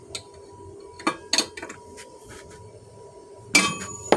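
A loose wrench knocks and falls around a drill press, giving several sharp metallic clanks close by, with the loudest clattering burst near the end.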